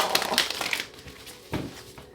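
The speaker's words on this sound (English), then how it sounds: "One more shuffle" Tarot cards shuffled during a reading, a quick papery riffle of crisp slaps and crinkles for about a second, then a softer second burst, close and alone.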